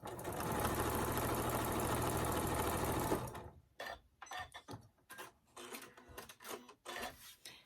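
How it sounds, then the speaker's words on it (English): A sewing machine runs steadily for about three seconds, stitching a quilt seam on a baby quilt, then stops, followed by quiet rustling and handling noises of the fabric. "And then you're just gonna sew down."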